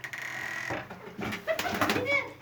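Van pigeons coo in soft, throaty bursts close by, with rustling and faint background noise.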